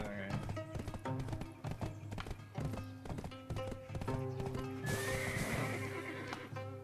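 A horse in the video game Tale of the Changui gallops with rapid clip-clop hooves and a loud whinny, set against game music with a voice talking over it.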